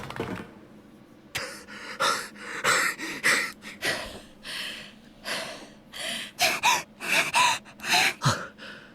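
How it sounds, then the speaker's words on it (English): Several game characters in Zero Escape: 9 Hours, 9 Persons, 9 Doors pant and gasp hard after running outdoors, a close, steady run of ragged breaths and sharp inhales with no talking. "everyone's panting"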